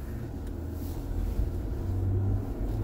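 An Ineos Grenadier's BMW inline-six engine rumbles low and revs up during off-road driving at the Drive Festival, a deep steady drone swelling louder toward the end, with no talk.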